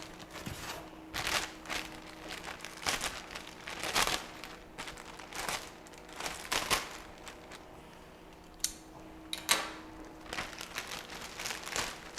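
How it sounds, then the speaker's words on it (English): Plastic packaging being cut away from an RC A-10 model jet during an unboxing: repeated crinkling and snipping bursts, close and fairly quiet, in irregular clusters with a few sharper clicks near the end, no talk. "Let's go ahead and cut this plastic off."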